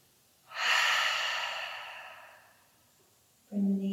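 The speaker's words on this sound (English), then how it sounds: "Take a deep breath in" One slow, deep breath in during yoga practice, a close soft airy rush that swells and fades over about two seconds, followed by a brief voice.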